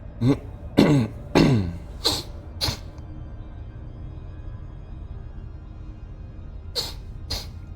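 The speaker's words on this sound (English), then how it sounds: "Sorry for excess sniffles." Allergy sniffles: a quick run of three sharp nasal sniffs, two more shortly after, then a quiet pause and a final pair, all close and isolated with no talking.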